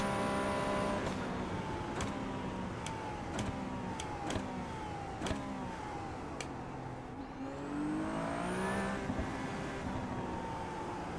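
A race car in the iRacing game at the Miami International Autodrome, held at full speed in a loud, steady engine whine with rising and falling pitch sweeps, sharp ticks from bumps, and a brief dip before the engine climbs again.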